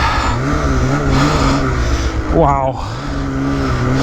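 A snowmobile with a 2-inch paddle track revs hard to climb out of a 4-foot snow drift at night in the woods. The engine drones loudly and close, with a sharp rising rev partway through and a person exclaiming over it.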